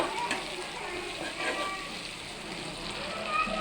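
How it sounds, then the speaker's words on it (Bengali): Shrimp frying in hot oil for a prawn and bitter gourd stir-fry, a steady close crackling sizzle with a few sharp pops, with no talk over it. "চিংড়ি মাছটা আমরা লাল লাল করে ভেজে নিব।"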